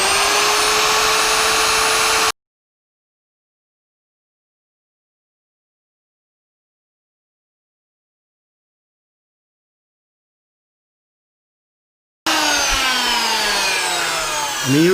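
A router bit shaves wood from the body of a Harley Benton SC Junior electric guitar with a steady high whine, heard loud and close for about two seconds, then after a long silent stretch the cutting returns with shifting pitch.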